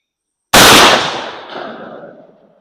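A single 12 gauge shotgun blast firing a 1 3/8 ounce powder coated pellet slug outdoors, a sudden very loud report followed by a long rolling echo that fades over about two seconds.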